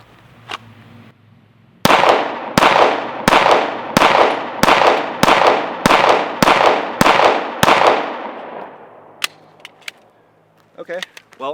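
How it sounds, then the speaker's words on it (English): Ten sharp, loud shots from a custom Glock 19 pistol ring out in a steady, evenly spaced string, each cracking and decaying, followed by quieter clicks and handling noises. "first shots with the Radian ramjet afterburner"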